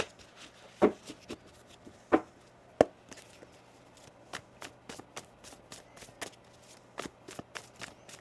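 Tarot cards are shuffled by hand nearby, a few sharp slaps followed by a quick run of soft riffling clicks in an irregular rhythm.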